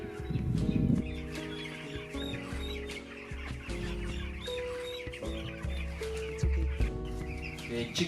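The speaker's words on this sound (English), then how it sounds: "Chicken, broiler chicken and eggs." Chickens on a broiler farm cluck and call close by, with a busy, overlapping chorus of clucks and short squawks that continues throughout.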